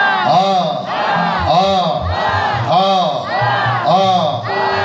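Pentecost congregation at an evening church service loudly cheering and acclaiming God, a crowd chanting in rhythmic surging waves, about four swells across the stretch, close and full.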